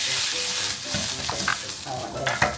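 Olive oil sizzles steadily in a pan while a utensil scrapes and stirs, with a few clinks against the pan.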